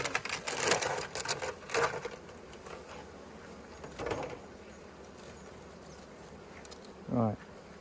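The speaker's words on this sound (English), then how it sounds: "there's a fair amount of bees in here" Bees in an open beehive buzz in a steady, soft drone, with brief louder swells as individual bees pass close by.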